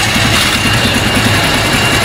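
A motorcycle engine idles steadily after being kick-started, a loud, close, continuous throbbing rumble with a regular low pulse and no talking.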